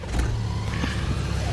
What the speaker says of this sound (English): Let's do this cold start